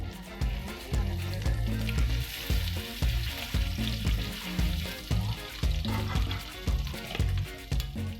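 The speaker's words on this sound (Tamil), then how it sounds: "நம்ம வந்து ஃபிஷ்ஷை எடுத்து ரோஸ்ட் பண்ணிக்கலாம்." Marinated fish shallow-frying in hot oil hisses steadily throughout, partly buried under rhythmic background music.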